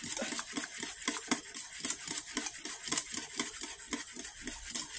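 A utensil stirs yogurt cake batter with cornstarch mixed in, making quick, rhythmic scraping and tapping strokes against the bowl, close and steady throughout.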